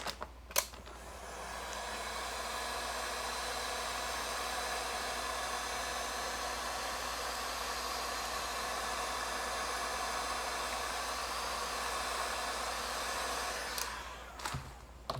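A heat gun shrinks heat shrink tubing during a carbon fiber GTR lighting build, giving a steady, close blowing hiss that holds evenly for about thirteen seconds, with a click at switch-on and another at switch-off.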